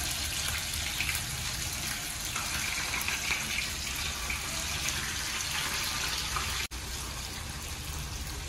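Water from a kitchen tap runs in a steady, loud, continuous gush, alone, with one brief break near the end.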